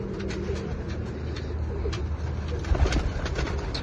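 Pigeons coo softly in a loft in Jhelum, a low continuous murmur of overlapping calls with a slightly louder flutter near the end, heard alone without talk.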